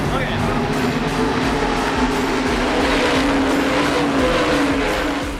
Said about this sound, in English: the fastest division of the night comes rumbling onto the racetrack